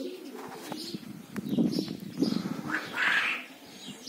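Pigeons cooing in a loft or yard where they are being flown, with soft low coos repeating across a few seconds, fairly close and steady, no talk over them.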